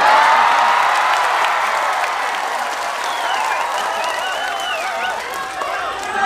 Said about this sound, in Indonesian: Yang terakhir harus kenceng tepuk tangannya